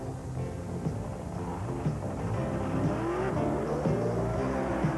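A drag racing car roars at the starting line during qualifying, its engine loud and sustained with rising, revving tones that fill the whole stretch.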